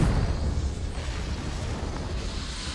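Hogwarts Legacy's Confringo fire-blast spell detonating, a heavy booming explosion with a thick low rumble that decays over a couple of seconds amid continuing combat noise.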